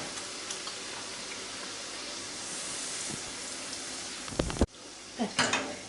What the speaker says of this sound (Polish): Smażymy w dużej ilości tłuszczu.